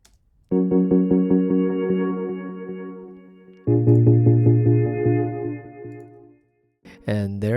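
Synth arpeggiator in a pop ballad production switched back on, quick pulsing repeated notes riding over held chords in two sections, then a brief pause and a short burst at the end.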